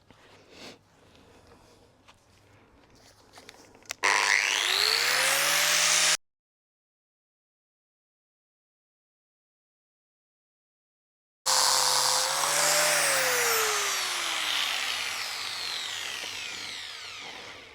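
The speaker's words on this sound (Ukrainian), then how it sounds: "Ну що, поїхали шліфувати?" A power sander whirs loudly against wood in two long bursts separated by a stretch of silence, its pitch rising and falling as it works.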